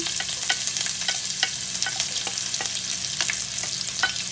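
Onion and garlic sizzle loudly in hot oil in a pan while being stir-fried for Indonesian stir-fry noodles, a dense continuous crackle broken by regular scraping stirs, with no talking.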